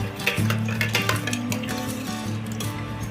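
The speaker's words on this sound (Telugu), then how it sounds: "అన్ని మంచిగా కలుపుకోవాలి. పైకి కిందకి అలా కలిపి వేసుకోవాలి" Ingredients being stirred and tossed together in a hot pan for an Ugadi festival dish, with a continuous sizzle and soft scraping and clinking of the spoon against the vessel.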